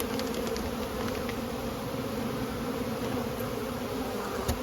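Honeybees buzz steadily in a dense, continuous drone at a hive with low food stores during spring feeding, close and even throughout with no talking.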